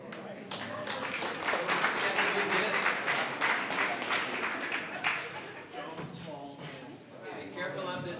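Crowd applause at an outdoor groundbreaking ceremony for a new health center, a dense, steady clapping that swells and continues for several seconds with some voices mixed in.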